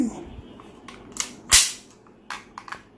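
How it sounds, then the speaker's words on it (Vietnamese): A WE Luger P08 gas blowback airsoft pistol fires a few sharp, snappy shots spread over a few seconds, with one loud close crack standing out among fainter pops. "Mình sẽ bắn nốt rồi, hết đạn."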